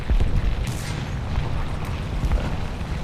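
An artillery shell lands with a loud booming blast in War Thunder's World War I-themed Great War event, followed by a rolling rumble and scattered smaller bursts that gradually fade.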